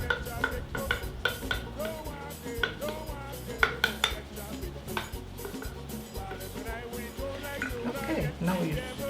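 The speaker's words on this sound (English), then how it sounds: "now you stir with the spoon" A spoon stirs Crucian Benye batter in a bowl, giving steady clinking and scraping strokes close by, with quiet voices talking over it.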